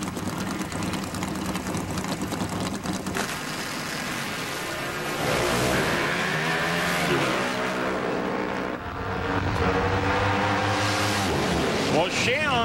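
Pro Stock motorcycles roar off the line at an NHRA drag race in Las Vegas, their engines rising and sweeping in pitch as they accelerate hard, loud and continuous beneath a commentator talking throughout.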